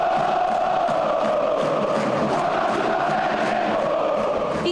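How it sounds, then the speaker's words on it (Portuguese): Football supporters chant a song for Calé, a massed crowd singing in a steady rhythmic pulse that stays loud and continuous from start to finish. "Sabe aquela música que a torcida canta pro Calé?"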